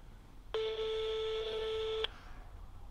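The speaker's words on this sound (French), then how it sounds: "Deuxième sonnerie." A steady electronic telephone tone sounds once for about a second and a half, then cuts off, with near silence before and after.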